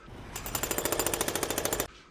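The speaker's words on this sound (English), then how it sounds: "We started chipping with the hammer." A hammer rapidly chips thick old body filler off a car panel in a fast, even burst of about twenty sharp, close metallic impacts, then stops abruptly.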